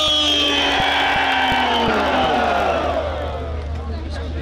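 Large crowd at a Pakistan Peoples Party jalsa, a political rally addressed by a speaker, roaring and chanting slogans in a dense, loud, continuous wall of voices with a few sharp accents near the start.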